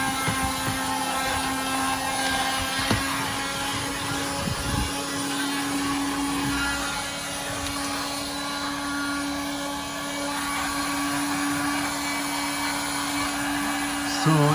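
A Beldray cordless handheld car vacuum cleaner runs continuously up close, giving a steady motor whine with a constant airy rush and small fluctuations.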